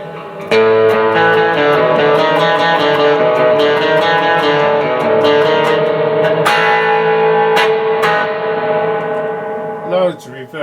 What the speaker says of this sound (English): loads of reverb.